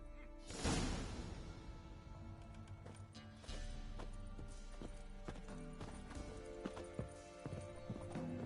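Hooves of Roach, a horse in The Witcher 3, clip-clop at a run over a layered game soundscape, the rhythmic footfalls steady and mid-distance with occasional louder accents.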